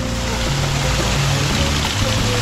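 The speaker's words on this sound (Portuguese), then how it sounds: "tem uma cachoeirinha mesmo, até com um pocinho, bem bonitinho" A small waterfall spilling into a little pool near a beach in Mangaratiba, Rio de Janeiro, gives a steady, loud, close rush of water that continues unbroken with no talking.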